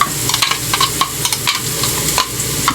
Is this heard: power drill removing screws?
no